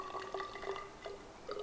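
About 30 ml of water is poured for measuring, trickling and dripping in a small stream, with light splashy plinks against a quiet background.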